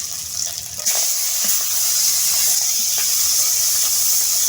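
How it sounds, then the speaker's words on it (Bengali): Tilapia fish sizzling in hot oil, a steady loud frying hiss that swells as the fish goes in and continues evenly with faint crackles, no talk. "তেল গরম হয়ে গিয়েছে, মাছটা একটা দিয়ে দিলাম।"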